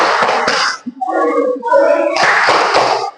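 Children clapping in rhythm during a classroom chant about the Prophet's qualities, loud sharp hand claps in bursts broken by a short sung or spoken gap in young voices.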